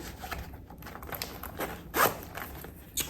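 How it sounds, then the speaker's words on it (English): A corner zipper on a dark magenta Coach Smith tote pouch is pulled in a few short, close rasping strokes, with one louder zip near the end of the brief burst. "this is the tag for the corner zip"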